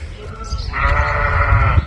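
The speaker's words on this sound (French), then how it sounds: "Il y a des moutons là." Sheep on a farm give one sustained, wavering bleat, close and fairly loud over a low rumbling background.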